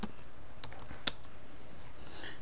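Keys tapped on a computer keyboard while drafting in AutoCAD, a few soft scattered clicks with one sharper keystroke standing out near the middle, close and quiet.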